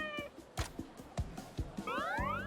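A cat in the game Like a Dragon: Ishin meows in a few short, close, repeated calls amid soft game background sounds, with a brief tonal chime near the end.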